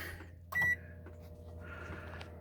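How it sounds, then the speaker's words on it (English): A microwave oven cooking vegetables runs with a steady low mechanical hum, broken by a short loud beep near the start, with faint clicks and rustling around it. "I'm going to put it right in there into the microwave"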